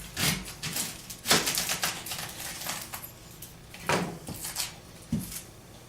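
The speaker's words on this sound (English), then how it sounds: "I've also got a red onion." A knife cuts a red onion in half on a kitchen surface, giving a handful of irregular, close knocking chops and crunches with brief pauses between them.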